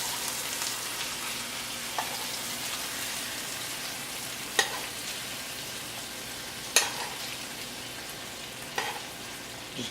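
Beef and salmon for a keto meal prep cook in a pan, giving a steady close sizzle and frying hiss with a few soft clicks of stirring, no voices.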